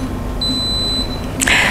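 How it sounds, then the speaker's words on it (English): An electric pressure cooker sounds two clear, high electronic beeps to signal that cooking time for steamed salmon and ratatouille is over, heard over a steady kitchen hum. "So when we listen to 10 beep beeps, and you will see this OH in the machine, this means that the cooking time is over."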